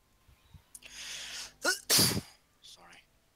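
One person sneezes close by, with a drawn-in breath, a short catch and then a loud explosive burst. A few soft sounds follow after it.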